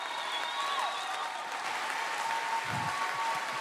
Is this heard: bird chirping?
no